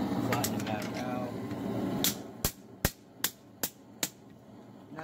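Hot steel hammered flat at a forge: after a stretch of talking with a low background hum, six sharp, ringing hammer blows land at a steady, even rhythm, loud and close.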